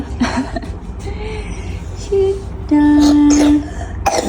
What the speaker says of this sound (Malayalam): ഇവിടെ വന്നിട്ട് ഭയങ്കര ചുമയാണ്